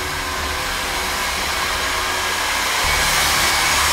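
A hair dryer runs steadily in a house, someone drying their hair. The broadband whooshing hum is continuous and fairly loud, and swells slightly near the end with no voices over it.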